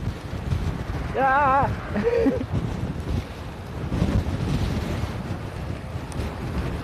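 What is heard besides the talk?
wind blowing into microphone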